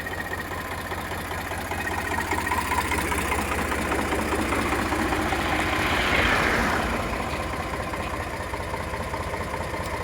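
A 2011 Eicher 368 tractor with an air-cooled Ricardo engine idles close by, a steady, low, rapid chugging that swells briefly about two-thirds of the way through before settling back to an even idle.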